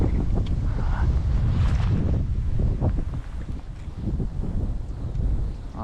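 Strong winter wind roars across an open dam at Oberon, NSW, buffeting the microphone in loud, gusty surges with low rumbling bursts and brief lulls.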